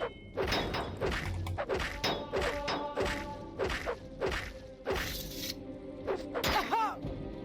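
Melee combat in Morrowind, a rapid series of loud close thwacks and thuds as a weapon is struck repeatedly until it breaks, with whooshing swings between hits.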